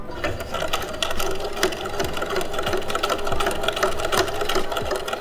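Sewing machine stitching a square bag, a loud, steady, rapid mechanical hum with rhythmic needle ticks throughout, close and alone without talk.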